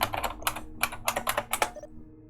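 A burst of rapid computer keyboard typing in Vampire the Masquerade: Bloodlines, clustered keystroke clatter in quick irregular runs before stopping.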